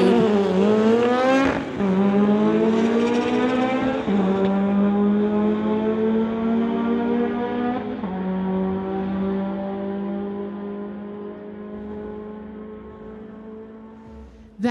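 Two cars drag racing, a 1973 VW Beetle against a 1987 Honda Prelude, engines revving hard and loud with rising gear-change sweeps, a shift near two seconds and another near four, then a steady drone fading out.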